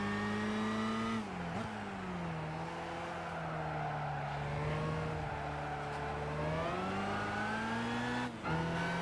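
BMW M5 and M3 race cars in Gran Turismo 5, a steady high engine drone with shifting pitch, dipping briefly at gear changes, with no talk over it.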